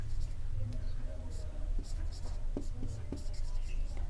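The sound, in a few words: writing by hand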